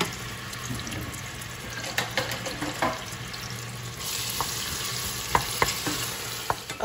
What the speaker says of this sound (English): the onions and stuff is cooking down, the jalapeno and onion.